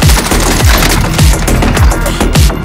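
Rapid automatic gunfire in Call of Duty: Warzone, a loud battle-royale firefight with repeated bursts and heavy low thuds at a steady rhythm, close and continuous with no talking.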